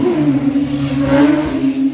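Motorbikes revving past on a street, a loud close engine whine that rises and swells briefly with rattly mechanical texture, no talking.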